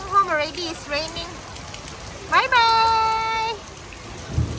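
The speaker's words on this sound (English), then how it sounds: "We're going home already. It's raining." Rain falls steadily in a Singapore kampong as a soft, even hiss, while a child and an adult talk over it in the foreground.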